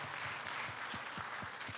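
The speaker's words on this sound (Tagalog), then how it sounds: "Yung palakpak niya parang hindi pa kayo nagdi-dinner." Faint, thin applause from a concert audience, a scattering of claps with individual hand hits audible, distant and quiet.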